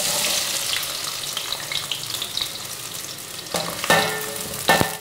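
Shallots fry in hot oil with cinnamon, cloves and cardamom for a mutton pepper gravy. A steady, close sizzle is broken by a few sharp clatters from stirring near the end.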